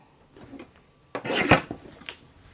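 Paper trimmer slicing a 12x12 sheet makes one close, rasping slide-and-cut lasting under a second, preceded by soft handling of the paper.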